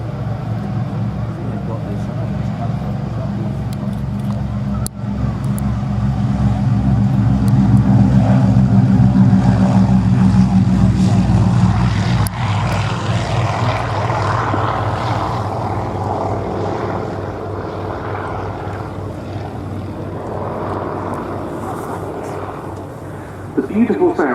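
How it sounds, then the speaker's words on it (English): A twin-engined Avro Anson (Avro 19 Series 2) with two 420-horsepower Armstrong Siddeley Cheetah radial engines on its takeoff roll at an airfield, a steady propeller drone swelling then receding, heard under talk. "The beautiful sound of the aircraft's two Armstrong Siddeley Cheetah engines of 420 horsepower each, powering into the air"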